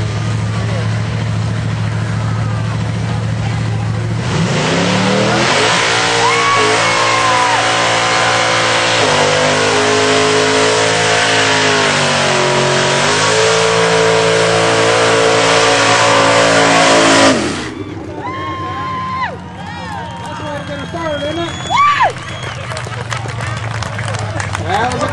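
A 1969 Camaro at a burnout contest roars through a long, loud sustained rev with rising and falling engine pitch, then drops off into crowd noise and scattered shouts of spectators nearby.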